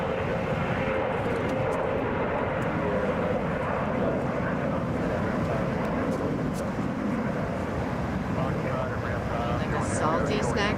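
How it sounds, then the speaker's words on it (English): A Delta Airlines Boeing 717 jet at Hartsfield-Jackson airport gives off a continuous, loud engine roar that fills the whole stretch, while people chat nearby over the noise. "That is Delta Airlines 1737, headed for Springfield. It's a Boeing 717."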